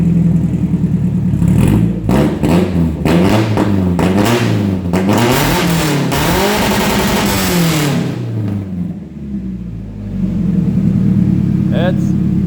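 A Toyota Camry dirt track car's engine fires up and revs hard through a side exit exhaust, rising and falling in repeated loud throttle blips before settling back to a rough idle nearby.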